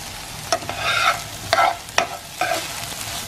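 Vegetables for a chuck roast pot roast sautéing in a hot pan: a steady sizzle with a few sharp stirring scrapes and clacks, close up, no voices.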